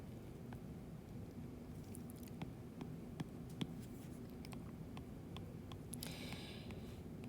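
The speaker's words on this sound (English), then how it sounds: "draw myself a graph here" Pen scratching on paper while a graph is drawn for a lesson on absolute value equations, with faint tapping strokes and short scribbles over a steady low room hum, growing busier near the end.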